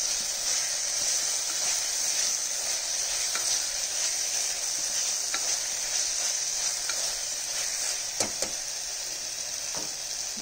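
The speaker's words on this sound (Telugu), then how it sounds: "వేగుతుంది బాగా." Chana dal curry fries in a pan with a steady, bright sizzle and hiss, a few faint clinks of stirring breaking through. No talking.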